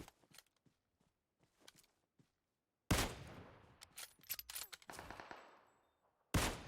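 Gunfire in the mobile game PUBG Mobile comes as loud, sudden bursts of rapid shots, one long volley midway and another at the very end, after quieter scattered clicks.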